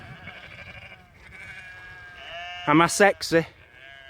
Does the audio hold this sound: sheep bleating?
yes